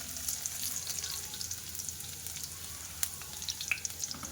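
Chopped garlic and ajwain sizzle steadily in hot oil while being stirred for a guvar sabji, a continuous bright frying hiss with a few faint scraping clicks from the mixing.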